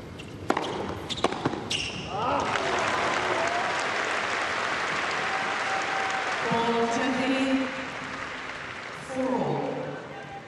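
A tennis exhibition audience rises in a standing ovation, loud sustained clapping and cheering after a few sharp ball or racket knocks, with a commentator's voice breaking through near the end.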